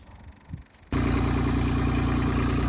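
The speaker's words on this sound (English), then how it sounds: "Engine's running." An engine starts up abruptly after its fuel system is bled and settles into a steady, loud idle with a constant rumbling drone, close by.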